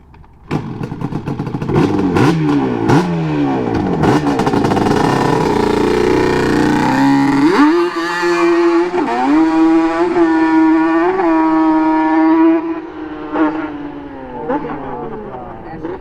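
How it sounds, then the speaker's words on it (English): A clean, street-legal Yamaha Banshee ATV engine fires up close by and revs through rising and falling sweeps before settling to a steady high idle, with people talking over it. "He's about to start the freaking Banshee."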